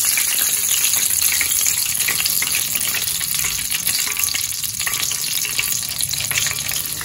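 Chicken tenders fry in oil with a loud, dense, continuous crackling sizzle that stays close and constant throughout, with no talking.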